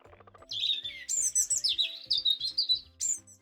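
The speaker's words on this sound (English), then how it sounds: "Robin." Robin singing a bright sequence of high, clear warbling phrases and chirps, close and loud, over faint low background pulses, with no talking.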